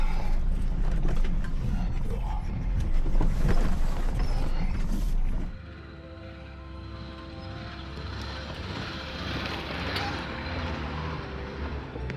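A G vehicle crawls slowly down a rocky trail, with a heavy low engine rumble, crunching and knocking over rocks, then a quieter steady drone with a tonal hum after a sudden drop in level.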